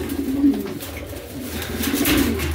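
Caged pigeons at a market coo in low, soft, repeated rolls over a busy, noisy background.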